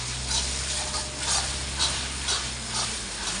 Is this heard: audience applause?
no